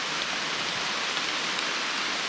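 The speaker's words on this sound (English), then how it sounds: "the sky just opened up and it started pouring down rain" Heavy rain pouring down in the woods, a steady dense hiss with no letup, moderately loud and even throughout, no voices.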